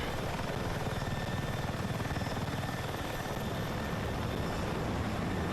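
An attack helicopter in the video game Battlefield 6 thunders steadily with a dense, continuous rotor drone, close and loud throughout and unbroken by speech.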